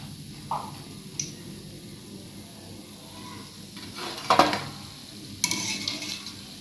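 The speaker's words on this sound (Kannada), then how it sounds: "ನೋಡಿ ನಿಪ್ಪಟ್ಟು ಕರೆದಾಗಿದೆ" Nippattu rice crackers frying in hot oil give a soft, steady sizzle, broken by metal utensil clinks and scrapes against the pan as pieces are lifted out.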